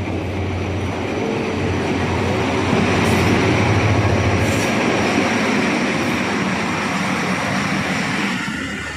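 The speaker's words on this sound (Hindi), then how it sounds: "मेहरापुर रेलवे स्टेशन पे नॉन स्टॉप एक्शन देखिए ट्रेन का।" A Pakistan Railways train with a 3200-horsepower diesel locomotive runs through Mehrabpur railway station in Sindh, a loud, close, sustained rumble with rolling wheel noise that holds steady for most of the clip and begins fading at the end.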